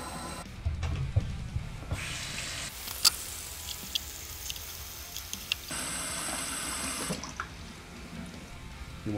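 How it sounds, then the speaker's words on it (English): A bathroom sink is filled from its tap after a new pop-up assembly and trap are fitted, water running in a steady, moderately close stream with a few brief clicks and shifts in the flow. "I'm going to fill up the sink."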